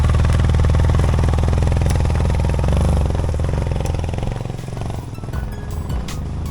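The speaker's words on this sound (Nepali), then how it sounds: "तर उकालो बाइकले तान्न छोड्यो" A motorcycle engine labours hard under load while climbing a steep high-altitude hill near the Nepal–India border in Panchthar, droning loudly and steadily before easing somewhat toward the end, with no talking.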